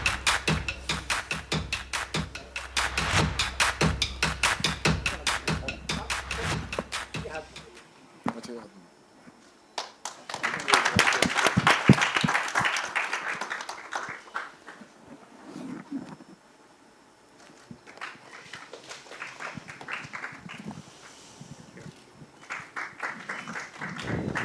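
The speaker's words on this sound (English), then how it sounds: "Round of applause to welcome him, please." An audience at a Gillette India campaign event applauds to welcome a guest on stage. Brisk, dense clapping fills the first several seconds, then fades as people talk for the rest of the stretch.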